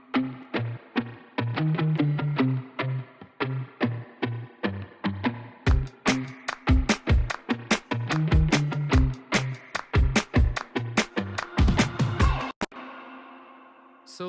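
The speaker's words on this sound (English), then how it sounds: "what the main electric guitar part sounds like is this" Electric guitar playing the main part of a pop song verse, a rhythmic muted riff of repeated plucked notes, turning into sharp staccato chops midway, then one note ringing out at the end; close and clear, no talking.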